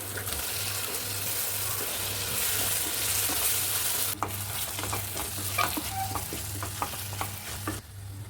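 Tomatoes sautéing with garlic in a pan for garlic pepper kuzhambu, a steady close sizzle and fry with scraping stirs and light utensil clicks throughout, dropping off near the end.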